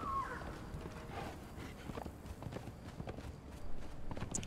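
Horse hooves clip-clopping in a steady quick rhythm while riding in the video game Conan Exiles, faint and continuous with soft background game ambience.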